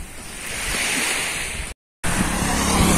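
Sea and wind at Semelar beach make a steady broad wash of surf and gusty buffeting on the microphone, loud and close, broken by a brief dropout of silence near the end.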